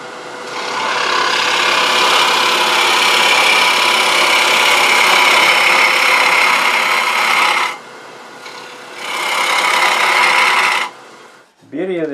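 A wood lathe turns a potpourri bowl while a small tool held off the tool rest takes a light cut, a loud continuous rasping scrape that pauses briefly twice before stopping.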